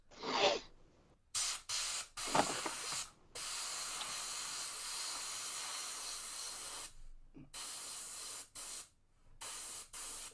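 Aerosol spray paint hisses from a can in a few short bursts, then one long steady blast, then several more brief sprays with short silent gaps.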